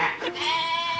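Sheep bleating on a small farm with rabbits, several drawn-out, wavering cries overlapping close by, loud and continuous through the moment.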